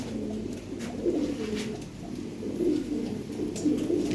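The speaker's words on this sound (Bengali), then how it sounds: "অনেক কবুতর আছে" Fancy pigeons, including Lahori pigeons, coo softly in repeated low warbling calls, several birds overlapping, fairly close, with no talking.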